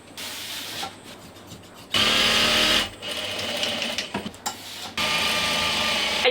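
A sewing machine stitching patchwork textile for a wedding dress, running in steady bursts of rapid mechanical whirring with short pauses between, close and clear, with no voices over it.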